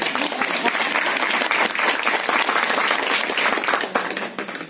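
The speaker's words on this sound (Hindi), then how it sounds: "ताली तो बजा दो एक" An audience at a Brahma Kumaris spiritual talk applauds steadily, a dense, sustained round of clapping that holds loud throughout and tapers slightly at the end.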